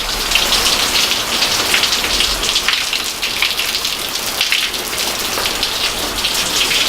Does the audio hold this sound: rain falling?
yes